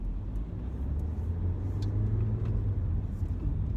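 A truck rumbles along the road as it passes, a heavy, steady low-pitched roar with road noise lasting several seconds, fairly close and with no voices over it.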